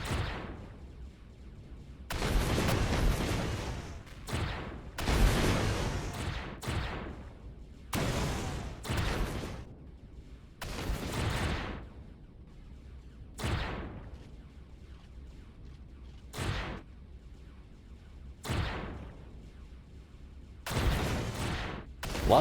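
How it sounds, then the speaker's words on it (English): Spaceship turrets fire in the video game Empyrion, heard as a string of loud, sharp gunfire bursts, some sustained and some brief, repeating irregularly over a steady low engine hum. "right now I'm just relying on my turrets to take care of things"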